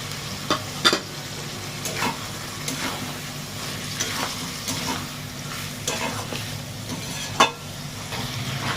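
Shrimp cooks in a pan with potato and pointed gourd, giving a continuous sizzle with scattered spatula scrapes and a couple of sharper clinks.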